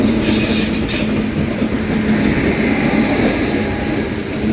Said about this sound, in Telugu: ఇదిగోండి వెనకాల లోకో, పుష్పుల్ లోకో ఒకటి ముందు లాక్కి వెళ్తూ ఉంటే వెనక నుంచి తోస్తూ ఉంటుంది